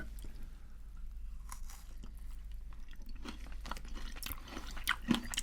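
Close, quiet crunching and chewing of a caramel chocolate bar, a series of soft crisp bites and squishy mouth sounds with small clicks, no talking.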